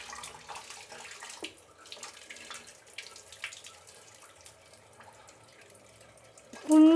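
Water trickles and drips intermittently as soaked flattened rice is drained by tipping it against a plate, with soft splashes throughout and a louder clatter near the end.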